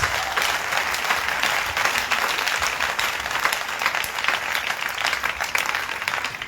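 A church congregation at a revival meeting claps steadily and loudly, a dense, continuous wash of applause from many hands filling the room without pause.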